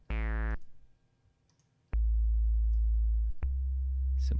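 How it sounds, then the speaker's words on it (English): A synthesized sine wave tone from a Max for Live synth: a short bright blip, a pause, then a loud, steady low drone with a sharp click at its start and a brief break near the end. "Simple sine wave there."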